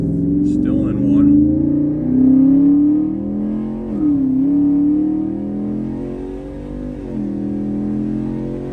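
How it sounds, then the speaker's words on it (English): A Ford F-150 with Raptor paddle shifters pulls away from a stop sign in first gear, the engine note rising and falling in drawn-out sweeps as it accelerates, heard from inside the cab, loud and steady. "And now we'll go to accelerate."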